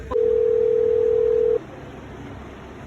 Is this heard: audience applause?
no